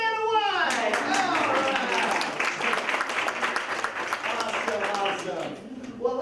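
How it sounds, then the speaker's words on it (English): Applause from a seminar audience fills the room steadily for about six seconds, with cheers or voices mixed in among the clapping. "go ahead and give a big round of applause"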